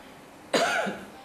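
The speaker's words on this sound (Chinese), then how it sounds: "用力对着麦克风咳嗽录音" A single forceful cough made close into a microphone, short and sharp against a quiet background.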